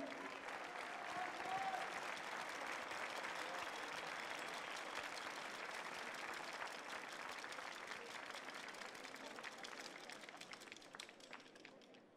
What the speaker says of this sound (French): On peut applaudir l'équipe des États-Unis